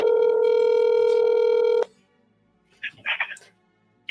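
A telephone dialing a number: a long steady tone holds for nearly two seconds, then stops, followed after a pause by a quick cluster of short touch-tone beeps.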